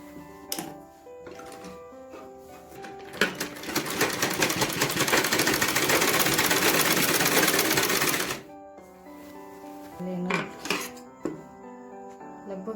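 A sewing machine runs a steady, fast rattling double stitch along a salwar seam for several seconds, with handling clicks and fabric movement before and after.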